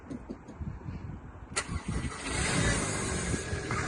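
An old project car's engine is cranked and catches about halfway through, then settles into a steady, loud idle close by, with no talking.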